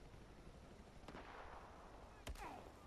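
Gunfire in a snowy battlefield war video game: a couple of sharp shots ring out, one near 1 second and a louder burst near 2.3 seconds, over a steady hiss of wind and game ambience.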